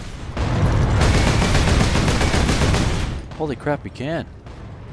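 Explosive barrels blow up under gunfire in Warhammer 40K: Space Marine, a dense, loud burst of blasts and shots lasting about three seconds, then an excited voice speaks over the fading rumble.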